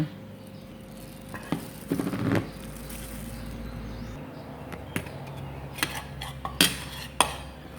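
A spoon scrapes grated cheese off a plate, giving close metallic scrapes and clinks against the dish. The sounds come in short, irregular bursts, with a few sharper taps toward the end.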